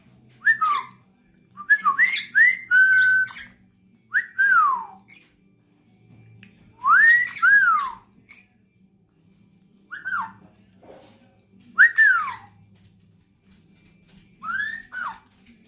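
A dusky pionus parrot gives a run of loud, close, swooping whistles in short bursts separated by pauses, some sounding like mimicked calls, over a quiet low hum.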